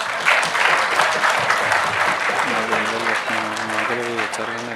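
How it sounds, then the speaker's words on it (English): Loud, sustained applause from a crowd, dense clapping throughout, with a voice speaking over it in the second half. "Give him a big round of applause."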